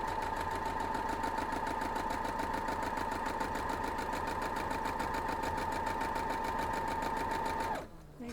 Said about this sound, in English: So let's head over there to the sewing machine